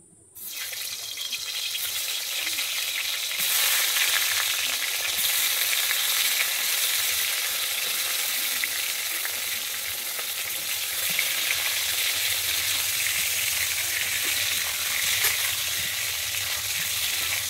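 Pointed gourd pieces sizzle in hot mustard oil in a wok, a loud, steady hiss that starts abruptly and holds throughout with a constant crackling texture.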